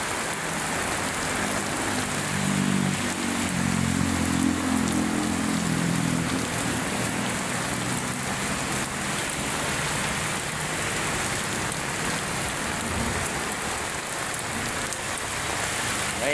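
Heavy rain pouring down by Manila Bay, a dense continuous hiss of drops hitting surfaces, loud and steady throughout, with a low rumble of passing traffic underneath early on and no talk.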